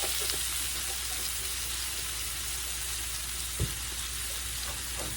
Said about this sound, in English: let's stir that up in here and let that kind of cook just a minute